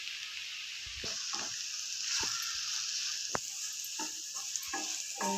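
Ivy gourd fries softly in a pan while a ground masala powder of coriander, cumin, cinnamon and clove is stirred in, giving a steady sizzle broken by sharp utensil scrapes and clicks.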